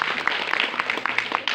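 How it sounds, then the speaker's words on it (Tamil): Applause from an audience at a Tamil poetry recitation: dense, steady clapping at moderate volume, filling the whole short stretch with no voice over it. "அருமை, கைத்தட்டுங்க எல்லாருமே."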